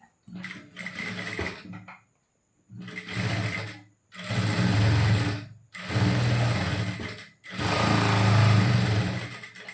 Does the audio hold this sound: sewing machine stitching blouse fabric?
yes